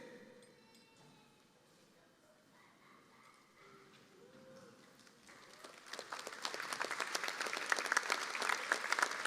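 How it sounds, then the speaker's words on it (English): Faint murmur and scattered sounds at a high school graduation ceremony swell into loud, sustained audience applause filling the second half. "Let's give them a round of applause"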